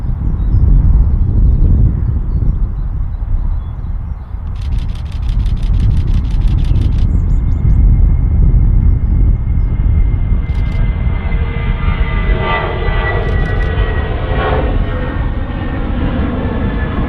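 Vueling airliner passing at Manchester Airport, a steady loud roar of engines mixed with heavy wind noise on the microphone, sustained throughout.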